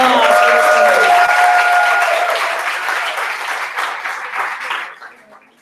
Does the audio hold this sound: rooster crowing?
no